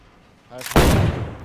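A single loud, close shotgun blast from DayZ on PS5, a sudden boom with a short rumbling tail after a brief rising rustle.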